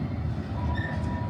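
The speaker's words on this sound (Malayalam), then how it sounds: "500 കാറുണ്ട് തോന്നുന്നുണ്ട് ഈ ട്രെയിനിൽ." A long freight train carrying cars rolls past close by, a loud continuous rumble of wagons with faint wheel squeal and clatter on the rails.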